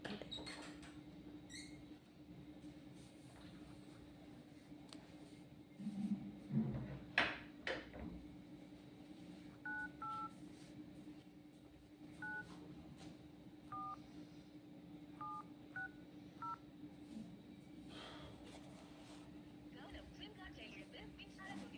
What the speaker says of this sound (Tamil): இப்போ இவங்களுக்கு நம்ம ஃபோன் போயிட்டுருக்குங்க